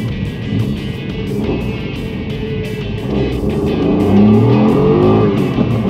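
A turbocharged Suzuki Alto Works tuned to 100 hp, front-wheel drive, drives and accelerates with a steady engine drone that rises in pitch and grows louder toward the end, heard from inside the car.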